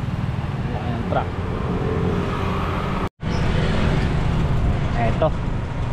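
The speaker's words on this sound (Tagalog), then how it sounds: "Ayan, truck." A truck passes on the road amid continuous traffic rumble, with a heavy engine swell building and fading; a brief dropout interrupts the sound midway, and voices seem faintly present beneath.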